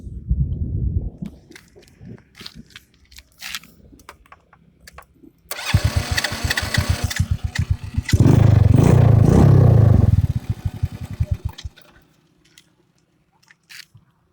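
A modified, automatic-start Rusi motorcycle cranks and fires up after a few quiet clicks, catching into a loud rapid idle before revving strongly, then cutting back and fading out, up close.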